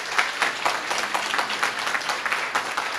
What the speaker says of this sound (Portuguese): Convido a todos a darem mais uma salva de palmas para o nosso presidente